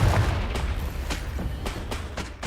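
A Confringo fire spell blasting repeatedly in Hogwarts Legacy, heard as a run of sharp, booming bursts roughly every half second over a steady rumbling game backdrop.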